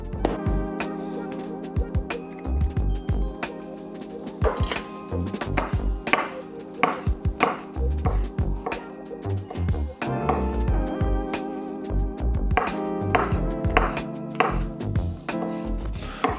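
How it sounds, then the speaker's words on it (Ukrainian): Knife slicing mushrooms into wide slices on a cutting board, a steady run of crisp taps and chops recurring through the whole stretch, close and fairly loud, with no talk. "І нарізаємо гриби."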